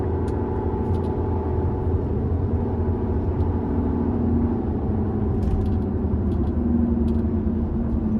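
Inside a roughly 20-year-old car with worn, balding tires, a steady low rumble of road and engine noise fills the cabin, loud and unbroken, with faint rattles here and there and no speech.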